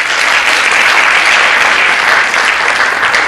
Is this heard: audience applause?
yes